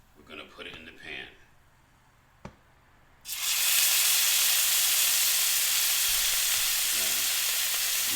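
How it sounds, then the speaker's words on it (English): A grass-fed ribeye steak hits a hot pan and bursts into a loud, steady sizzle that holds strongly to the end, after a man's short speech and a brief clank. "Now we're going to sear this steak."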